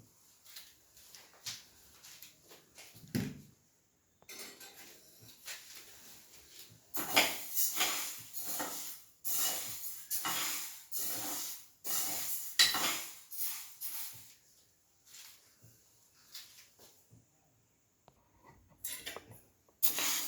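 Dry ingredients roasting in a pan with jaggery and salt, stirred with a metal spoon that scrapes and clinks against the pan in irregular bursts, close by, with no talking.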